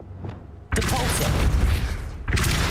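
Depulso spell cast in Hogwarts Legacy: after a quiet lead-in, a sudden loud blast of force bursts in and roars on for over a second, then a second heavy burst hits near the end.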